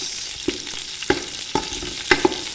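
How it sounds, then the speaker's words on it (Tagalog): Pinapaitan meat toasting in its own rendered fat in a pan, a steady close sizzle broken by several sharp scraping stir knocks at irregular intervals, with no voices. "So tustahin natin ng konti para lalong lumabas yung kanyang mantika"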